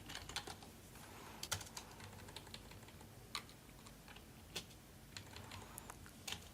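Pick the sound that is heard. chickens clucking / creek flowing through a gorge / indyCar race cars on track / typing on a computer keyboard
typing on a computer keyboard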